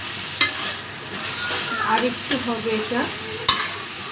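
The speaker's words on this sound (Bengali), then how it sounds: "আমি এইভাবে নাড়িয়ে দিচ্ছি যেন নিচে না লেগে যায়" Chicken and cabbage curry being stirred in a pan, a spoon scraping and pushing the thickening mixture in steady strokes with faint sizzling, a few sharp clinks of utensil on metal, and a brief spoken word.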